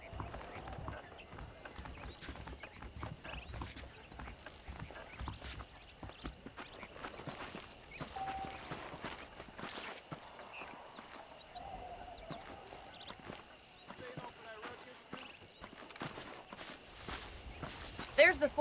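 In the video game Red Dead Redemption, steady clip-clop of horse hooves walking at an even pace, with a voice talking over them throughout.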